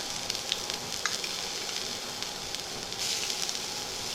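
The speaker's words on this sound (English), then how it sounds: "Give a quick saute to it" Cumin, red chillies, ginger and garlic sizzle in reused hot oil, a dense, close, steady frying hiss punctuated by light spoon clicks and a slight swell near the end, with no talk.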